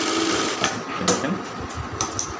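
Sewing machine stitching a round kameez, a steady close mechanical hum with a few sharp clicks, running throughout the short stretch.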